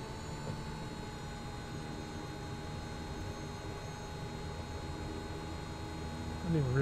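Kodiak 100 single-engine turboprop in Microsoft Flight Simulator 2020, idling steadily on the runway with a constant drone and faint high whine, swelling slightly at the very end; someone talks over it.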